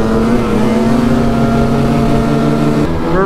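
A snowmobile riding across the lake narrows, heard as a loud, steady engine drone that holds at an even pitch and rises slightly near the end, close and continuous with no talk.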